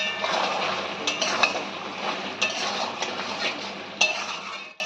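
Vegetable curry of jackfruit seeds, red amaranth stems, potato, pointed gourd and ridge gourd is stirred in a pot with chopped coriander, giving close scraping and clinking of a spoon against metal over a faint sizzle, with no voices.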